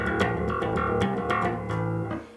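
A fast bass guitar riff from a song, plucked hard with fingers and artificial nails, gives a quick run of punchy, accented notes with bright attack, close and fairly loud, with no talk.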